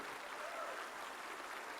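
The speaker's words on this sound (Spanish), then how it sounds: "Den un aplauso al Señor si usted lo cree." A church congregation gives a sustained round of applause for the Lord, a dense and even wash of many hands clapping together that fills the room without pause.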